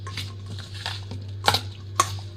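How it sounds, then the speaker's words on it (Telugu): A spoon stirs Ugadi pachadi with raw mango pieces, making soft, wet scraping and a couple of sharp clinks against the bowl over a low steady hum, with no voices. "స్పూన్తో కలిపేసుకుందాం"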